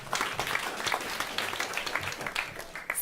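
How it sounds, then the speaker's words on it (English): Audience applause at a panel discussion on climate-friendly consumer products, a brief burst of scattered clapping lasting about three seconds at moderate distance. "Round of applause, please"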